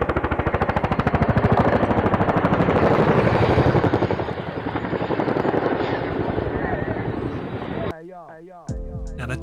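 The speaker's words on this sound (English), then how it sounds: "I give you the Royal Air Force Chinook display team" A Royal Air Force Chinook twin-rotor helicopter performs a display at the Royal International Air Tattoo. A loud, continuous rapid rotor chop roars close by for several seconds, then cuts to a brief, quieter different sound at the end.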